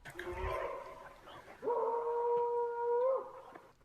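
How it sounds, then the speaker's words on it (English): A dog in the woods gives two long wavering howls, the second sustained and loud, with rustling noise around them. "Oh, that's a dog right there."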